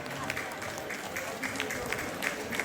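Audience at a Pun Society UK annual get-together clapping together, a dense patter of hands that goes on steadily under crowd murmur and a voice.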